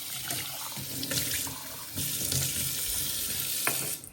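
A mug is washed under a running tap in a sink, a steady close rush of water with splashing shifts as the mug is turned beneath the stream, stopping near the end.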